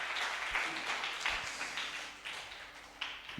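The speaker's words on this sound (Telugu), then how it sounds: "అందరం ఒకసారి చప్పట్లు కొట్టి దేవుని మహిమపరుద్దాం" A church congregation claps together in praise of God during a worship service, a steady dense wash of many hands lasting throughout.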